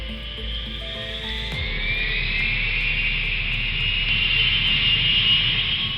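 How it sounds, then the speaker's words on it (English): A Concorde's four jet engines roar at full takeoff thrust, a loud, sustained high-pitched whine and broadband rumble building steadily after a brief sharp change. "the Concorde flight began taking off"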